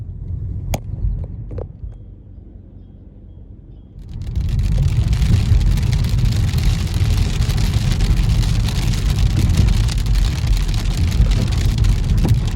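Rain falls on a moving car while driving, starting as a quieter cabin rumble with a few sharp taps, then swelling after a few seconds into a loud, steady drumming wash over the road noise.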